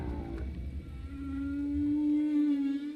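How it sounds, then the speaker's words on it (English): A male humpback whale sings during the breeding season, a long rising moan that swells into a sustained, loud tonal note and holds steady over low underwater rumble, with no voices. "We know that humpback males sing during the breeding season."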